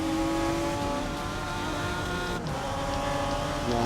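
Race car engine in GRID Legends on a semi-pro track day, droning loud and close with steady harmonic whine. Revs hold high throughout, with a brief dip near the middle and light tire noise underneath, no talk.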